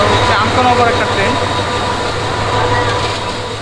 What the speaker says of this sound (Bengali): এটা হচ্ছে আন্তনগর একটা ট্রেন।